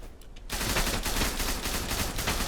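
Rapid gunfire from a UTS-15 shotgun in the online shooter Zula, a dense continuous volley of loud, close shots starting abruptly after a brief quiet moment and running without pause.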